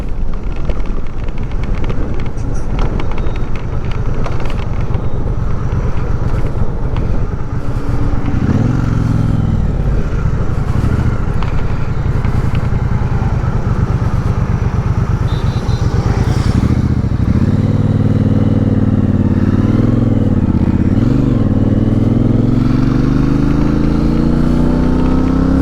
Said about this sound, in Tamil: வாழ்க்கையில் ஃபஸ்ட் டைம் 1200cc பைக்.